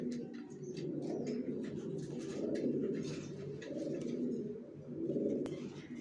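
A pair of young racer pigeons coo close by, soft throaty swelling coos repeating in slow waves, with faint chirps and light clicks in the background.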